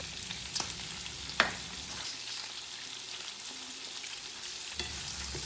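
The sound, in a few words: bacon frying with onion and garlic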